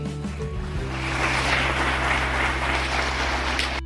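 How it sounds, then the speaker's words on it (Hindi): Sustained audience applause at a zonal celebration event in Guwahati, swelling after a brief musical tone and holding steady as a broad wash of clapping. "इनके लिए जोरदार ताली बजती है"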